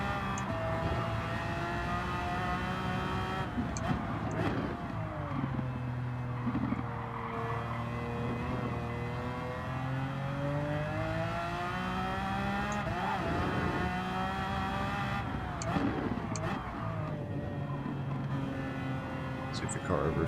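A Pagani Huayra engine in a racing video game on the Nürburgring holds a steady, close roar with rising and falling pitch as the car accelerates and shifts, running the whole time under a player's talk.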